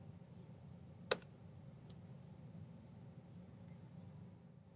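A single sharp mouse click in Pro Tools, hitting record and play on the transport, stands out faintly against a low steady hum, with a couple of softer ticks after it.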